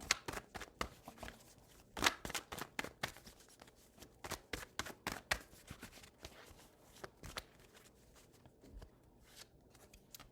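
Tarot cards being shuffled by hand in a quiet room, a quick irregular run of soft papery riffles and flicks with a few sharper snaps, close and fairly faint, no talking.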